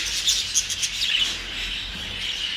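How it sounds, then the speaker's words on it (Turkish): Budgerigars chirp in a bird shop, a cluster of high twittering calls over a low room hum, fairly soft and with no speech. "burada muhabbet kuşları var"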